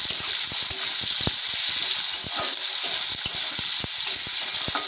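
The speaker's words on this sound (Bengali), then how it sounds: "পেঁয়াজ কুচিগুলো একটু ভেজে নেব।" Chopped onions frying in hot oil in a pan, a dense close sizzle full of rapid crackling pops, continuous and alone with no voices.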